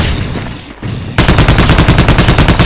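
Half-Life: Opposing Force gunfire, a loud, dense burst that breaks off briefly and then resumes as rapid, evenly spaced automatic shots, close and with no talk.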